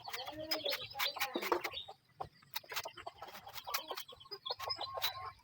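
Chickens on a small farm cluck and chirp in short, repeated bursts at moderate distance, with a brief pause partway through and a low background hum.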